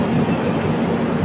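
A train rumbles at a railway station with a loud, steady low rolling drone, heard close by, with no clear talking.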